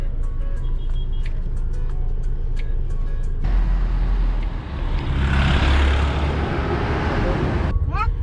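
Dense road traffic on a highway between Shillong and Guwahati, heard from inside a slow-moving automatic car: a steady loud rumble of engines and tyres, with a heavier vehicle passing nearby midway and a few light clicks early on.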